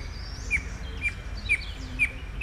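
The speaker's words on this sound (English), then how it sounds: "look at that wren singing" A plain wren in western or central Panama repeats a bright, sharp whistled note about once a second, five times, fairly near, over a soft background hum.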